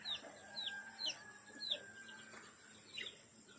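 Chickens cluck in short, repeated calls over a steady high electrical whine, fairly quiet and a little distant, with no talking.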